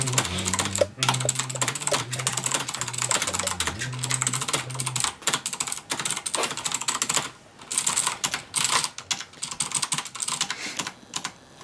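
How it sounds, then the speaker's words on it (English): Steady clattery typing on a Logitech G710 mechanical keyboard with Cherry MX Blue switches fitted with key dampeners, close and continuous with a rapid uneven rhythm and no talking. "This is how it sounds like with the dampeners."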